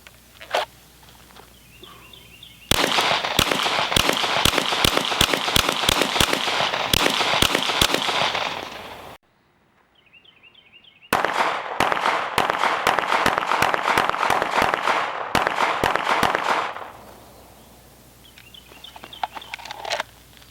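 Handgun shots fired at a target from about seven yards ring out in two rapid strings of many sharp, close, loud cracks, separated by a short silent gap, with faint rustling before and after.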